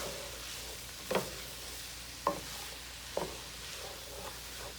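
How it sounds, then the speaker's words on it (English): Chopped mushrooms stirred into a frying lasagna meat sauce with peppers and onions, three or four distinct scraping spoon strokes over a steady low sizzle, close and moderately quiet, no talking. "Last thing we forgot to put in, chopped mushrooms. So we start mixing that in."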